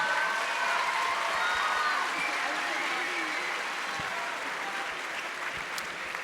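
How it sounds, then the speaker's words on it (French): An audience at a French awards ceremony applauds steadily, a dense wash of clapping at moderate level that holds evenly from start to finish. "prenez un peu les applaudissements"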